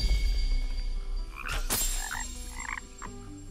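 Frogs croaking in the video game Kena: Bridge of Spirits, a few loud close croaks sounding over a droning background hum.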